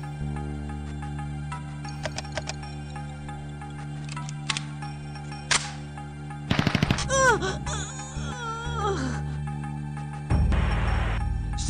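Gunfire in the SWAT police game Police Quest: SWAT, a dense burst of rapid shots around the middle, with scattered single pops, electronic tones and a low rumbling game backdrop.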